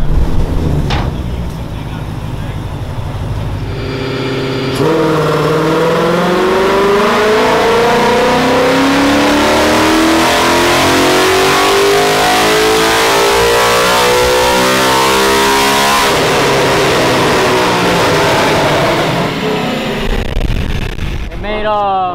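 A Caterpillar C15 diesel truck engine on a dynamometer revs up through a long, loud pull lasting most of the clip, its pitch climbing steadily before backing off, with voices heard around it.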